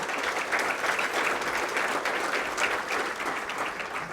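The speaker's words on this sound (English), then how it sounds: "let's give the entire board and people a big round of applause." An audience at a regional chamber of commerce event applauds, a dense, continuous wash of clapping from many hands that holds steady and loud for several seconds without speech.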